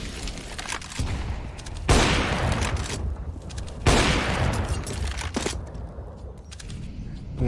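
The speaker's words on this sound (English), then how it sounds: "Here come the nades." Grenades go off in a Counter-Strike: Global Offensive pro match, ENCE vs FaZe at cs_summit 6 Europe, two loud booming blasts a couple of seconds apart amid ongoing gunfire and game noise.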